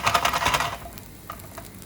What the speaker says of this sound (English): once I see my garlic already starting to brown, giving its flavor, releasing all of the oils